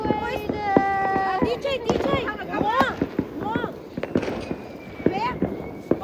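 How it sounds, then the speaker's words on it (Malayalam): New Year's Eve fireworks burst all around in Munich, with whistling rockets rising and dense crackling bangs overlapping continuously at close range. "ചുറ്റും ഫുൾ ഫയർ വർക്കാണ് കേട്ടോ."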